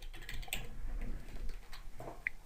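Computer keyboard typing in quick, irregular bursts of close key clicks, with one brighter isolated tap near the end, no voices over it.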